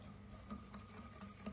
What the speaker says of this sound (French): je vais fouetter